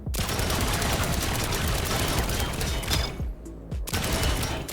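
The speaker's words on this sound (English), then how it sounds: "First test, machine gun on whole armor." Sustained machine-gun fire in the video game Trailmakers hammering armor blocks, a dense loud rattle of rapid shots with clanking impacts, briefly thinning near the end before resuming.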